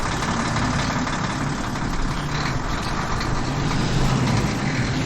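Car engine idling as a sound effect, a continuous loud rumbling drone with steady low throb that never changes, with no voices over it.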